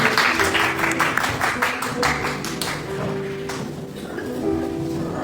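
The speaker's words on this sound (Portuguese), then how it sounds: "aplaudindo a Jesus. Glória a Deus!" A church congregation applauds in praise during a service, with rhythmic clapping that is loud at first and then thins out, while sustained tones, likely music, sound underneath.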